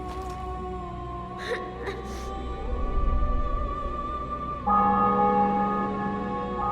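Church bells ring in the video game The Witcher 2: Assassins of Kings, sustained metallic tones humming over a low rumble, with a louder, deeper toll entering partway through.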